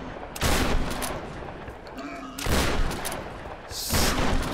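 Bursts of gunfire in the Tomb Raider (2013) video game come in three loud volleys of rapid shots, with short pauses between them.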